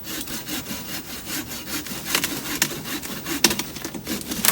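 Cassava plant stalk being cut down outdoors during a harvest, a steady close hacking and sawing of woody stem with rough rubbing strokes and a few sharper snaps, heard alone without talk.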